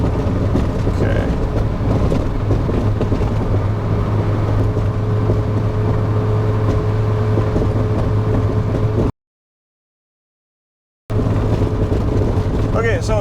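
A convertible car drives along a bumpy road section at around 85, its steady low engine and road drone loud and continuous, cut by a brief gap of silence near the end.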